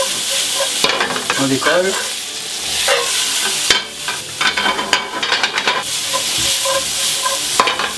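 Steak and onions fry in a pan with no added fat, a loud steady sizzle under the scrape and stir of a spatula, while a voice speaks briefly over the cooking.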